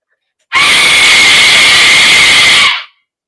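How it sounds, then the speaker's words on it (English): A small Aztec death whistle blown hard, giving one loud, shrill, scream-like wail that holds steady for about two seconds, then cuts off abruptly. "This is one of those Aztec death whistles, a little smaller version."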